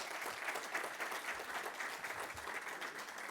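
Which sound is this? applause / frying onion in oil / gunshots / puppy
applause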